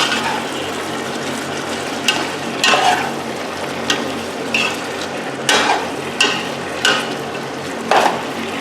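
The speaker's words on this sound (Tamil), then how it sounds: "இதை நல்லா கிளறி விடுங்க." Chicken biryani ingredients sizzling in a hot pan as they are stirred, with repeated scraping strokes of a spoon against the pan over a steady frying hiss, close and fairly loud, with no talk.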